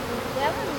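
Honeybees buzzing around a hive held by a beekeeper, a brief steady drone of many wings heard close.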